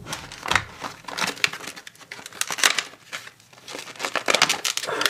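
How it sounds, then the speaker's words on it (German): Stiff plastic blister packaging around an LED flashlight being pried and wrenched open by hand: dense, continuous crinkling and crackling with sharp bursts of crumpling throughout, close and fairly loud, no voices. "diese Teile sind so dermaßen gut in diese Kunststoffdinger eingepackt, dass man die Lasche hier nicht rauskriegt"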